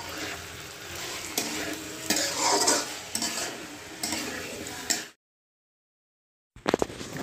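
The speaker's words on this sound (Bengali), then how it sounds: "তারপর এখন মাংসটা কষাতে এসেছি" Meat stirred and sautéed in a pan for biryani, with a steady close sizzle and frying hiss broken by repeated scraping stirs of a utensil against the pan, cutting out briefly near the end before resuming.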